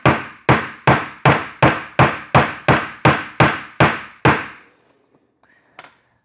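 A hammer taps a part into an AR15 buffer with eleven evenly spaced, sharp metallic strikes about half a second apart, loud and close, then a couple of faint clicks after a short pause.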